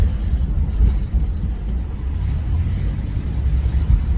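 An Astro Van drives through Los Angeles, with a loud, steady low road and engine rumble plus wind buffeting the microphone throughout, no speech.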